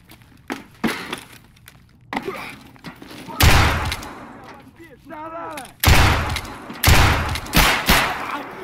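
Gunshots from RIP slug rounds fired at metal in a game, several loud sharp blasts spaced apart, with a person talking between them.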